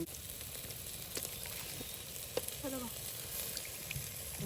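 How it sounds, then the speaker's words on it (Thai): Thai curry paste mixed with shrimp paste sizzles in a hot pan, giving a soft, steady frying hiss with faint crackles and small pops, quiet and fairly close. "ลนก่อนลนในเครื่องแกงมันหอมก่อน"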